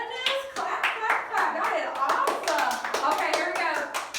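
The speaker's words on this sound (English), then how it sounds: "Clap, clap, clap." A classroom of children claps hands in a series of sharp, roughly rhythmic bursts, close and lively, while a teacher and kids talk over the clapping.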